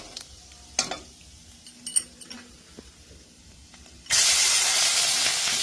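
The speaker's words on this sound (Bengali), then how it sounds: "ভালো করে লঙ্কাকে নাড়তে হবে যাতে ভাজা হয়ে যায়" Green chillies go into hot oil with five-spice seasoning in a kadai and are stirred. A few light clinks and taps are followed by a sudden loud, steady sizzle that fills the last second and a half.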